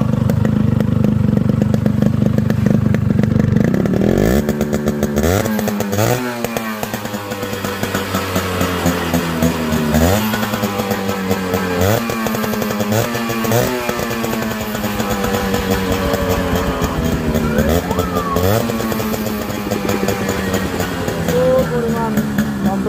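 A Yamaha RX100 two-stroke motorcycle with a rebuilt cylinder and piston and a hydraulic setup idles loudly up close, then is blipped through repeated sharp revs with a raspy, crackling exhaust note.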